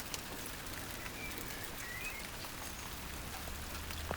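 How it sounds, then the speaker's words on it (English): Summer rain falling steadily on a vegetable garden in June, a soft continuous patter of drops close by with faint birdsong in the background and no voices. "that rain is brilliant"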